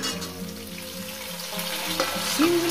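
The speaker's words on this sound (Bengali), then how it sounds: "আলুর সঙ্গে সিম দিয়ে আমি 3-4 মিনিট এটাকে ভেজে নিয়েছি" Flat beans frying with potatoes in a pan, a continuous close sizzle with stirring scrapes, no talk, ending in a brief clink.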